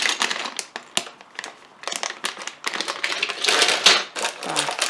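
A large, heavily crumpled plastic bag of Sluban construction set parts crinkles and rustles as it is handled, with loud, irregular crackling bursts close by.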